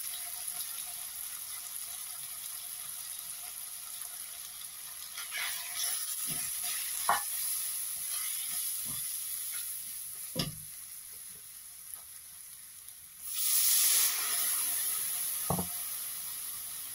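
Ground turmeric, chili, coriander and cumin sizzle steadily in a hot pan for chicken bhuna, a constant hiss with a few scattered clinks and stirring sounds, growing louder near the end.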